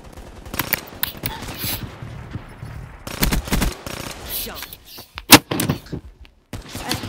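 Bursts of automatic gunfire in the shooter game Black Ops 3, loud rattling volleys broken by pauses, single shots and game effects, with a voice talking faintly over parts of it.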